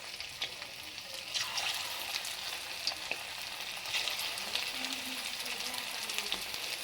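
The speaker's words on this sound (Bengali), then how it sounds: "এবার পকোড়ার জন্য হচ্ছে কি চিকেনগুলো ছেড়ে দেবো তেলে একটা একটা করে।" Chicken pakora pieces frying in well-heated oil, a steady close bubbling sizzle with occasional pops and light stirring, no voices.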